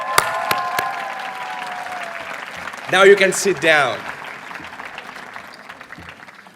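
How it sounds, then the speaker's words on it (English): Applause and cheers from an audience at the closing ceremony of an international masters graduation, with scattered sharp claps, a brief louder burst of crowd noise midway, and someone speaking over the sound. "give them a big round of applause."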